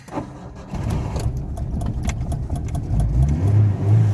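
A car engine is started after sitting through winter: a click and brief starter crank, then the engine catches and runs with a rising rev, loud and close.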